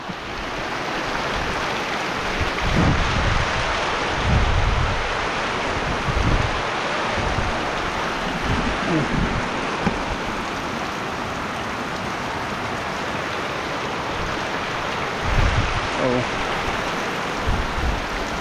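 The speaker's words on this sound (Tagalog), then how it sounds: "Ay, talaga pong buhos ang ulan." Heavy rain pours steadily on a roof in a rural farm setting, a dense continuous wash with a few low rumbles that may be thunder, close and loud throughout.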